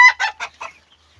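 Chickens at a poultry seller's place, heard as a short run of four or five loud, close clucks that fade into quiet.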